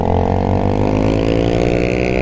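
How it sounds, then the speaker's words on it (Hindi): A 220 motorcycle's exhaust rumbles loud and close in a short, steady burst of engine throb with a low, even pulse. "आगे जाके रुकेंगे और 220 की एग्जॉस्ट की आवाज़ भी सुनाएंगे आपको।"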